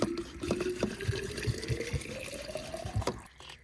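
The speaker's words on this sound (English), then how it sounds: "I'll just add a little bit of water to that." Water poured into a slow cooker at a beach campsite, a thin trickling stream with a rising fill tone as the pot fills, plus several soft knocks and clinks, close by and fairly quiet.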